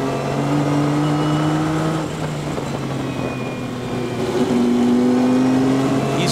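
An on-board race car engine roars steadily at an ALMS race at Laguna Seca, with tones shifting as the car works through gears and revs, loud and continuous with no talk over it.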